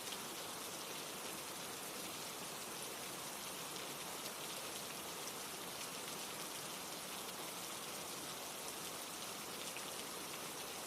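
Steady rain falls in a continuous, even hiss with no breaks or variation, a dense wash of drops on surfaces heard alone without voices.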